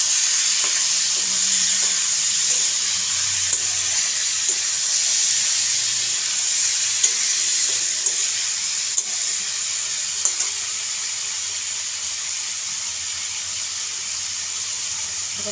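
Small fish go into a pan of reddened fried onions and are stirred, producing a steady, bright hiss of sizzling oil with faint occasional knocks of stirring underneath, no voices.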